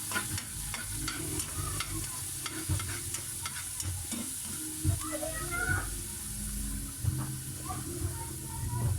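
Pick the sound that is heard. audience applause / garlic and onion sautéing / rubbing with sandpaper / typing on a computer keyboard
garlic and onion sautéing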